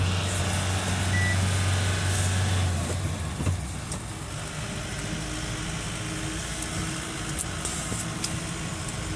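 Loaded goods truck rolling along a national highway in India, a steady engine and road rumble with passing traffic, a low tonal hum fading early, no talk.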